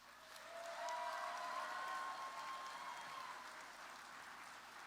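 Faint, steady applause from a crowd at the Kansas FFA Convention, heard at a distance and sustained for several seconds.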